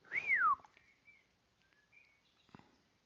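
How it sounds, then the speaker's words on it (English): A single clear bird whistle falls in pitch, then gives way to a few faint, scattered chirps in a quiet outdoor space. "Oh, birds."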